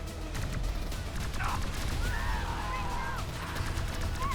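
Modded plasma rifle fire in Fallout 4, a busy stream of rapid, crackling energy shots with bright whooshing tones mixed into a dense, loud battle din.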